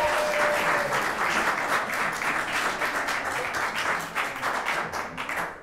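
Audience applause fills a city council work session, a dense, steady roar of many hands clapping that holds loud for several seconds and thins slightly toward the end.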